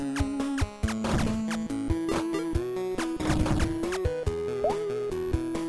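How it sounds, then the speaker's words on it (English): In the video game Snailiad, a failed attempt to open a door brings loud, chaotic crashing thumps layered over steady in-game music, with several sharp impacts in quick succession. "That was the sound of me trying to open a door that I can't."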